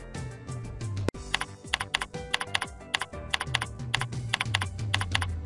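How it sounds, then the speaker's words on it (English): Typing on a computer keyboard, rapid close key clicks in short bursts and clusters with brief pauses, crisp and alone without speech. "Next, type out your social security number and date of birth."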